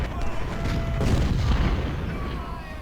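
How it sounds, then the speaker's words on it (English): Deep booms of artillery fire rumble from a Civil War battle in the strategy game Ultimate General: Civil War, a heavy, continuous low-pitched barrage that swells and then slowly fades. "Artillery, open fire."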